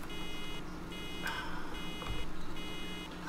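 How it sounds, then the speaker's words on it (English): Repeated electronic beeping from a farm vehicle in Farming Simulator 2013 during baling, a steady high pulsing tone with short gaps over low engine rumble, fairly quiet with no talk. "That's an annoying beeping sound."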